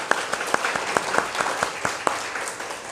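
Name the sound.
congregation applause in church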